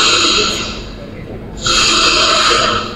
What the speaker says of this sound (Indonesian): ngorok keras itu artinya udara itu turbulence di dalam saluran napas kita